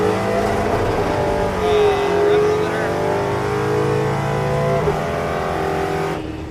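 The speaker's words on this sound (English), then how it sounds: "I hit the rev limiter. Yeah, we heard it." A race car running on street tires during a land speed attempt at Bonneville, its engine held at high steady revs against the rev limiter in a loud, sustained droning roar that cuts off near the end.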